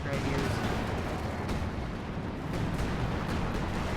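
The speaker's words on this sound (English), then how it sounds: "All sorts of artillery coming down." Artillery shells and explosions pound a battlefield in the World War II strategy game Company of Heroes 2, a dense, continuous roar of blasts and rumbling impacts with no pause, loud throughout.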